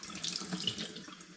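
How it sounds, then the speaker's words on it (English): A kitchen tap runs steadily, rinsing water through a home brew wine airlock, a soft continuous splashing stream with no talk. "Just put the tap on, let it rinse through"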